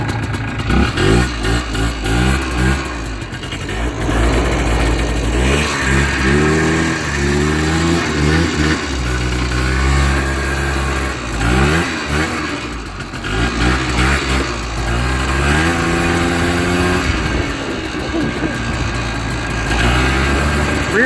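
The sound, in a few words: four-wheeler engine running and revving while riding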